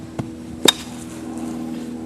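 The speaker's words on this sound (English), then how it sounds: "Take your hammer and beat out here and close that gap." A hammer beats down dirt around a bedded trap: two sharp knocks, one near the start and a heavier, slightly doubled strike just after, then a low steady outdoor background.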